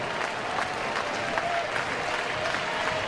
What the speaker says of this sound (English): Crowd making some noise here with 2 down, nobody on